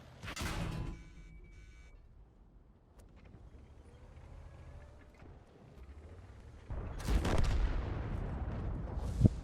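Gunfire in a video game: a heavy blast opens, a low rumble and faint mechanical hum follow, then a series of booming shots lands close together near the end.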